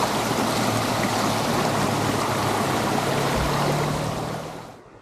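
A stream in the Valganna woods, running high with plenty of water, rushes steadily and loudly up close, then fades out near the end.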